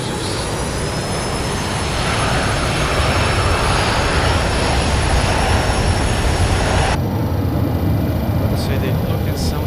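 Boeing 727 freighter thrust reversers in a flight simulator: a loud, steady jet roar that holds for about seven seconds, then changes tone and thins out.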